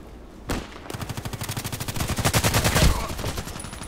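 Automatic gunfire from the shooter game Contract Wars: a sharp opening shot, then a long, rapid burst of loud, evenly spaced rounds that fades out at the end.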